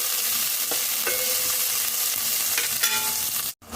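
Chopped onions fry in hot oil in a pan, giving a loud, steady sizzle with the scrape of a spoon stirring them, close up and without any talking, ending in a brief cut.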